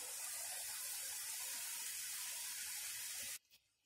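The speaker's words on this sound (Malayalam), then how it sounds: "വീണ്ടും അതേ പാനിലേക്ക് തന്നെ നമ്മൾ നേരത്തെ റെഡിയാക്കി വെച്ചിട്ടുള്ള ശർക്കരയുടെ പാനി ഒഴിച്ചു കൊടുക്കാം" Jaggery syrup for rava laddu is poured into a pan as one steady, hissing liquid stream. It stops abruptly near the end, leaving a couple of faint knocks.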